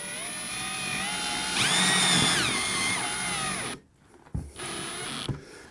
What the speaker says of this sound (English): So we're going to drill for a little bit